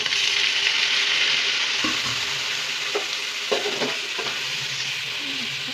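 Beans palya with cooked chana dal fries in a pan with a continuous sizzle, while a spatula scrapes and stirs in several short strokes close by.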